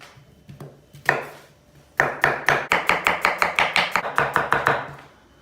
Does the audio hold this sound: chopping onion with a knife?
yes